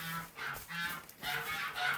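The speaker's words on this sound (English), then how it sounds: "the geese want something to eat" Farm geese honk for food in winter at an East Coast Canadian barn, a few loud nasal calls in quick succession, close and rhythmic with short gaps between them.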